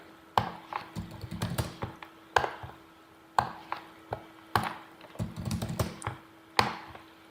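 Keys clack on a computer keyboard in short, uneven clusters of close, crisp clicks, with brief pauses between the bursts and a faint steady hum underneath.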